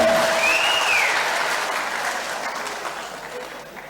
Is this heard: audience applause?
yes